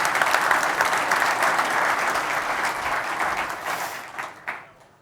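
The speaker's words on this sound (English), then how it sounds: "give them a round of applause for all the work to set this up" An audience applauds the Tulip team at a manufacturing operations event, a full, dense wash of clapping that holds strong and then thins out and fades near the end.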